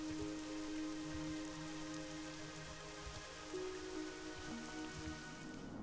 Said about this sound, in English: Now it has rain, just like Loch Modan did, but it's a nice gentle soft rain.